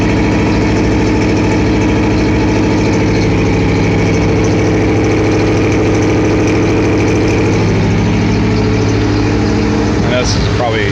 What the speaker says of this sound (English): So now I've got it set at a high idle right this second.